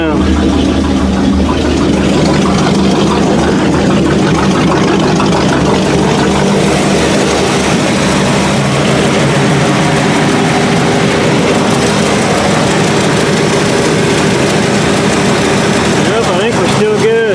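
A 1979 Chevy K20 truck engine idles steadily and loudly, a constant low rumble that stays unbroken throughout the clip.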